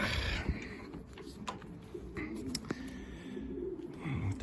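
Pigeons coo softly in a pigeon loft, a low murmuring drone under scattered clicks and rustling, faint and continuous.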